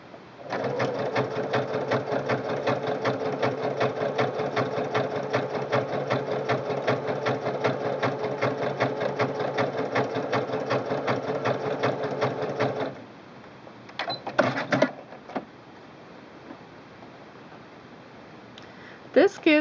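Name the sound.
Singer Quantum Stylist 9960 sewing machine zigzag stitching cording down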